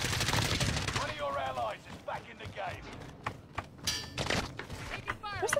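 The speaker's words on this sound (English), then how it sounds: "Wait, Amy's shooting on that side" Rapid gunfire from a first-person shooter video game crackles in bursts amid game sounds, with players talking over the shots throughout.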